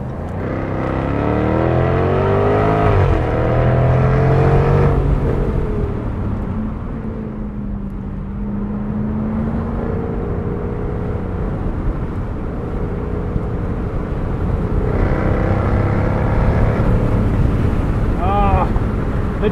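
A 2021 Jaguar F-Type R AWD convertible engine and exhaust drone steadily while driving, swelling into louder revving pulls at the start and end, with someone talking over it.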